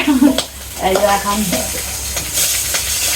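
Egg frying in a pan, a continuous sizzle with scraping stirs and a few short tonal clinks, a voice briefly heard near the start.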